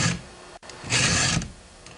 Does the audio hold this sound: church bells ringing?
no